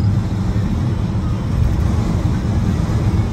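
A 1980 Chevrolet C10 pickup with a 350 engine and 3-speed automatic drives into a strong north wind, giving a loud, steady low rumble of engine and road noise throughout.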